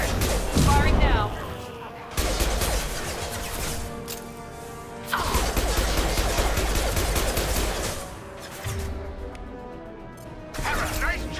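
Rapid bursts of weapon fire from the game Mass Effect 2 crackle in repeated volleys across the scene, loud and close, with game effects and occasional voices mixed underneath.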